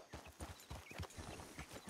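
Horse hooves clip-clop in the Red Dead Redemption game world, a steady run of soft thuds at a moderate distance with no talk over them.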